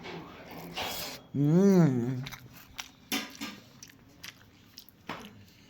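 Someone takes a bite of a home-cooked Bengali lunch of mutton curry with garlic and garam masala, making soft close bite and chewing sounds under a drawn-out vocal exclamation and brief speech.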